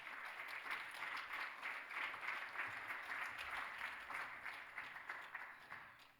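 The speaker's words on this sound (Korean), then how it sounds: "조원빛은 뭐 자기가 장학금 받으면서 자기가 박수를 치네요" Steady applause from a congregation during a church scholarship presentation, a dense continuous patter of many hands clapping for several seconds at even strength before easing slightly at the end.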